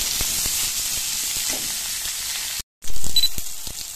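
Pointed gourd (potol) frying in oil until reddish: a loud, steady, close sizzle that fills the clip, broken by a brief silent cut and then resuming a little louder, with no voices.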